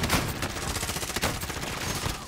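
Dense, dry bursts of gunfire crackle almost without pause in a video game shooter, several shots overlapping in a continuous rattle at close to mid distance.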